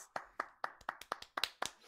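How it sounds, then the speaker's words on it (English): Slow, even hand claps from a single person, about eight sharp smacks in a steady rhythm, close up and fairly quiet, with no talking. "Let's all make a round of applause for him"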